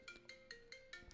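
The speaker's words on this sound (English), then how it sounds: "wait, I gotta answer the phone." A phone ringtone chimes in a repeating pattern of short bright tones over a steady held note, quiet and alone with no voices.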